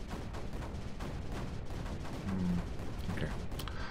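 Dense, continuous gunfire and explosions from the strategy video game Creeper World 4, a steady rumbling barrage with a brief louder burst midway, no voices.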